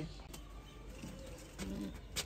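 Breeder pigeons at a loft give a soft, low coo or two, faint and brief against a quiet background with a few light rustles.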